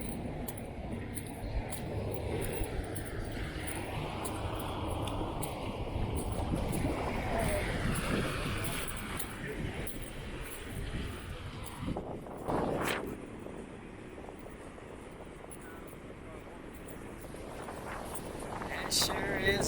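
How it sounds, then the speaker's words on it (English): Strong wind buffets the microphone by a lakeshore breakwater near the Grand Haven lighthouses, a loud, continuous rumbling roar that swells and gusts throughout, with a few faint sounds beneath it. "It sure is a windy one out here"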